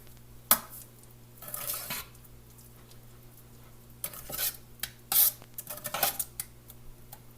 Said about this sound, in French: On va juste faire certain que tout est bien mélangé et que la sauce est chaude.